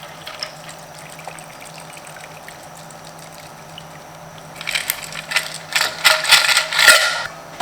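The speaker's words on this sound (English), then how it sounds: "pour right over our cube" A cocktail is poured into a rocks glass over a single big ice cube. A quiet stretch comes first, then the liquid splashes and trickles close up, with clinks of ice for the last few seconds.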